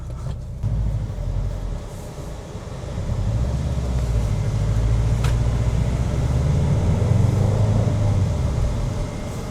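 Subaru WRX on a test drive, heard from inside the cabin as a steady low engine and road drone that swells gently as it speeds up, with no talking.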